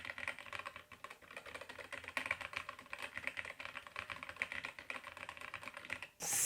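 Rapid, continuous typing on a mechanical keyboard fitted with Gateron Cap switches, close and crisp clacking keystrokes in dense bursts with no voices.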